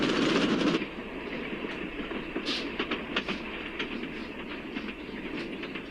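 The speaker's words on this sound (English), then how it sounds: "Never been on a train before." A train rolls steadily along the rails with a rhythmic clickety-clack and a continuous rumble, starting with a louder rush that settles into steady running, with no voices.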